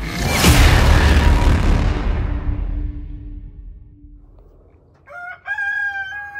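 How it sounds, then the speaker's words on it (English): On a farm, a loud rushing rumble fades away into near silence, then a rooster lets out a clear, fairly close crow at the very end. "You hear the roosters?"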